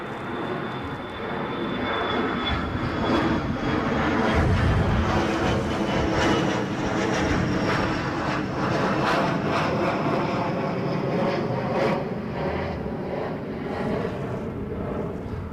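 Airplane at Newcastle International Airport, a steady loud engine roar that builds and holds for the whole stretch, broadband and close, with no talk over it.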